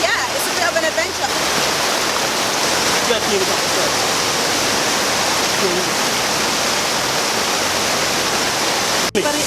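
Aruu Falls in Uganda heard while walking through the waterfall, a loud, dense, continuous roar of falling and splashing water very close, with faint voices barely emerging beneath it.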